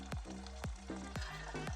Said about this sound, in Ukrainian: І обережно викладіть у гарячу олію шматочки тіста.